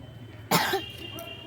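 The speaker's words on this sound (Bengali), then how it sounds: "আজকে কাশিস নি সারা রাত কাশতেছি" A single sharp, harsh cough bursts out close by, followed by a brief rasping tail, then quiet room tone.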